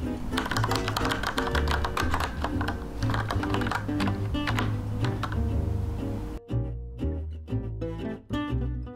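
Fast, steady typing on a retro-styled mechanical keyboard, crisp clacky keystrokes close up, with brief pauses between bursts.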